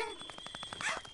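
A dog in The Playroom VR video game gives a rapid series of short, faint barks and yips, several quick pulses in about a second, ending in a slightly louder burst.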